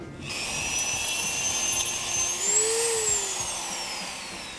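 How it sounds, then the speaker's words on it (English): Dremel rotary tool with a small grinder bit grinding plastic nubs off a BMW GTS tail light, a steady high whine running throughout whose pitch rises and falls briefly near the end, close and alone. "I got my Dremel. I put the smallest little grinder bit I could on there."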